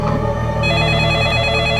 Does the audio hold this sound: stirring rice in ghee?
no